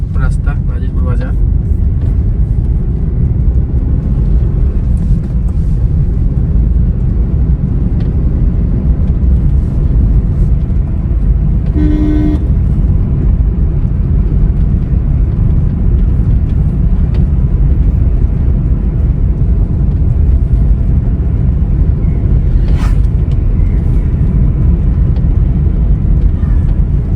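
A Maruti Dzire car drives along a main road between Topla and Nazirpur, its steady engine and tyre rumble heard from inside the cabin throughout. The noise is continuous, broadband and fairly loud, with no voices over it.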